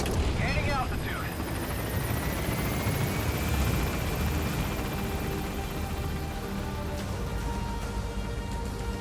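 A helicopter climbs in the video game Metal Gear Solid V: The Phantom Pain, its rotor roar loud and steady throughout, with rising engine whine and a voice speaking over it.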